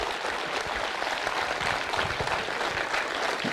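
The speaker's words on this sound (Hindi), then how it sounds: "जोरदार तालियां हमारे इन नए साथियों के लिए" An audience at a Modicare direct-selling meeting gives a loud, continuous round of applause to welcome new members, a dense wash of clapping throughout with no talk.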